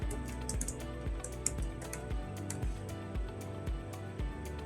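Rapid, close clicking of keys on a computer keyboard while code is typed, an even run of light taps with a faint hum behind.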